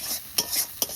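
Shrimp spice paste, with ground and small chopped shrimp, is stirred and fried in a pan, giving a close, steady sizzle broken by two sharp scraping stirs of a utensil.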